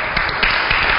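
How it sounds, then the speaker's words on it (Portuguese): Audience applause at a civic ceremony with the mayor, a brief, steady patter of many hands clapping together, fairly loud and continuous. "Vamos aplaudir, gente!"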